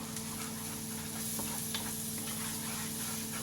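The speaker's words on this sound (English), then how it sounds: "You want to just fry all that off just for a few seconds before you start adding anything else." Cumin, coriander and garlic fry in a hot pan with a close, continuous sizzle, faint ticks and stirring scrapes dotted through it, with no voices.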